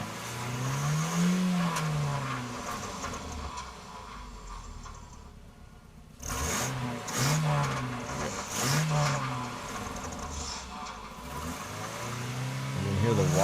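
Car engine with a modified, whistling muffler idles and revs in uneven surges for several seconds, with a brief dip in the middle; a faint high whistle rides on the exhaust drone, and voices are heard faintly.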